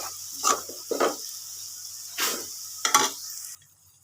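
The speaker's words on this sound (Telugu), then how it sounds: "ఇక ఫైనల్గా ఎగ్స్ వేసుకుందాము. ఎగ్స్ వేసానండి" Eggs cooking in a pan with tamarind leaf curry, a constant soft sizzle under several short bursts of stirring or scraping against the pan, near and moderately quiet, ending abruptly.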